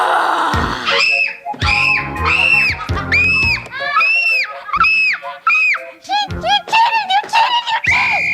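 A girl in a scene from the 1986 film The Worst Witch screams over and over: a string of shrill, rising and falling cries, each cut off by brief gaps.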